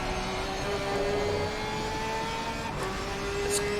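A flat-six GT3 race car roars steadily in an ACC sim racing game at Brands Hatch, its sustained engine drone holding a high, slowly rising pitch at moderate volume beneath a hiss of background noise.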